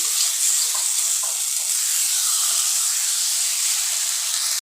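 Eggs and potatoes fry in hot oil, giving a steady bright sizzle and hiss that runs without a break, close and fairly loud, with a few small pops.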